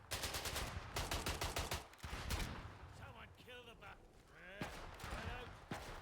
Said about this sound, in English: Just shooting the shit out of that guy.